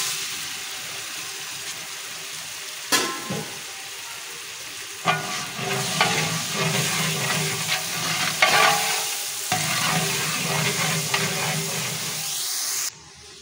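Two kilograms of tomatoes stirred and fried in a large pot of village-style chana pulao with ginger: a steady sizzle with repeated scraping and stirring clatter, close and fairly loud, with a few sharp knocks.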